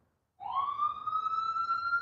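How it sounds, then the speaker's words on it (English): An emergency vehicle siren outside near a park, starting abruptly and holding one steady rising wail, loud and fairly close, with no talk over it. "I'm sure you can hear that siren"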